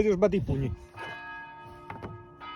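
Church bells ring out in the distance, their sustained tonal strikes and humming overtones repeating every second or so, with someone talking over the first part of the peals.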